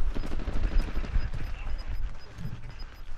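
Rapid bursts of Call of Duty: Modern Warfare gunfire crackle at mid distance, with short repeated shots and a faint high beeping throughout.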